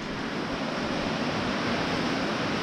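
Pouring rain falls outdoors, a dense, unbroken hiss that stays loud and even from start to finish, with no talking heard.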